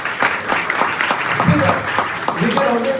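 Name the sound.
audience applause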